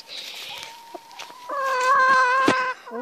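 Backyard hens clucking during farm chores, with a run of drawn-out, tonal calls and short clucks that swell louder toward the middle, close by and with no talking.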